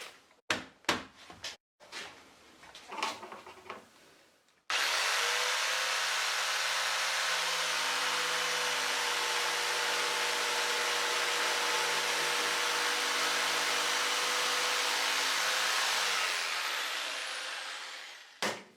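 Jigsaw ripping a wooden board guided along a side fence jig, a steady loud buzzing cut running about twelve seconds after a few sharp knocks and handling clunks, then winding down at the end.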